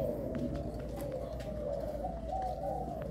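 A Malaysian pigeon cooing close by, a steady run of soft, throaty coos repeated over a low background murmur.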